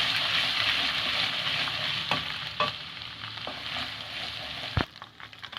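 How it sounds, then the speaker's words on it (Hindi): Ginger garlic paste sizzles hard in hot oil, crackling steadily while a spoon stirs it with occasional scrapes and taps, close and loud, easing off near the end. "अब हम इस ऑयल के अंदर पहले अदरक लहसुन का पेस्ट ऐड करेंगे। इसको 1 मिनट तक फ्राई करना है।"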